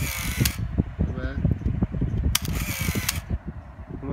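Shutter release on a Canon AF35ML film camera with a 38mm f2.8 lens, heard as two brief bright mechanical clicks about two seconds apart, close to the microphone over a low background hum.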